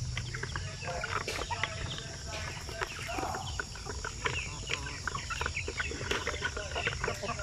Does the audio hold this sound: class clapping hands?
no